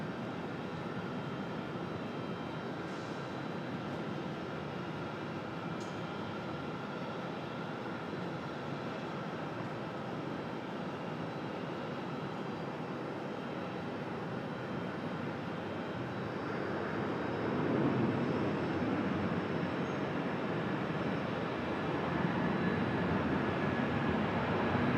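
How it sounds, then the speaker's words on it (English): An Airbus A319 arriving from Philadelphia at Raleigh-Durham International Airport, heard as a steady broadband jet engine roar that swells louder in the last third, with no talking. "Here's our A319 from Philadelphia."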